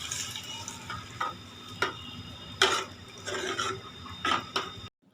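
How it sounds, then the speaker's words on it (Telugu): A spoon stirs ajwain java in a pot after the tempering goes in, giving repeated scraping and rubbing strokes at an irregular rhythm, close and moderately loud, before stopping abruptly. "ఇప్పుడు ఈ తాలింపు వేసుకున్న తర్వాత ఒక్కసారి బాగా కలిపేసుకుందాం"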